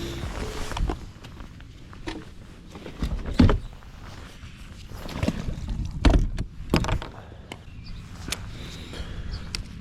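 A bass fishing boat cruises across the water toward a fishing spot, with an uneven rushing and thumping of hull and water close by and occasional knocks, and no one talking.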